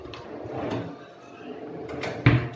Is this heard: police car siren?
no